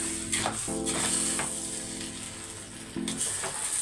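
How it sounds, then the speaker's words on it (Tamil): Chicken biryani masala being stirred as it fries in oil, with steady close sizzling and a few scraping stir strokes of the spoon against the pan; no talking. "இப்போ மிக்ஸ் பண்ணிக்கலாம் நல்லா எண்ணெய் பிரிஞ்சு வந்திருக்கு"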